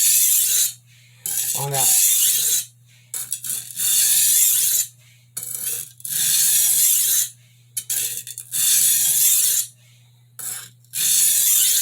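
An 8-inch kitchen chef knife is drawn across a whetstone in repeated steady strokes, giving a close, gritty rasping scrape about once a second with brief pauses between strokes; a few words are spoken.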